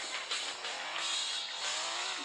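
A car drifting in a driving simulator video game, a steady hissing tire squeal and engine whine that swells and eases, moderately loud and with no talk.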